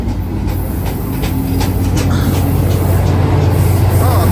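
A Caltrain passes through the Santa Clara University station with a steady, loud rumble of wheels and engine that stays close and continuous throughout.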